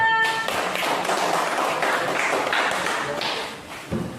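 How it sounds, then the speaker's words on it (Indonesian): A classroom audience claps steadily for a student group named Tsunami, a dense, close wash of many hands that holds evenly and then thins out near the end. "Kasih tepuk tangannya."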